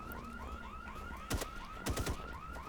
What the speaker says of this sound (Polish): No się włączył alarm, ale to spokojnie.